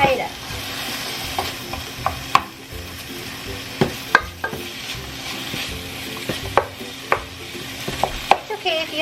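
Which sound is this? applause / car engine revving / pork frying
pork frying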